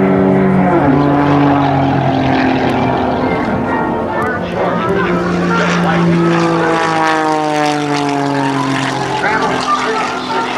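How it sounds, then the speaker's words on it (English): A Pitts S2C biplane's engine and propeller drone loudly at an airshow, with the pitch sliding and shifting as it maneuvers, and an announcer talking over it. "Air Force Reserve biplane"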